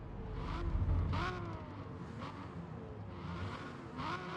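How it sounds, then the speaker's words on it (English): A stock Toyota Camry TRD V6 in Forza Motorsport is revved repeatedly. The engine climbs in several rising sweeps between brief drops, under steady low rumble and some tire noise. "So far, the revving sound is interesting."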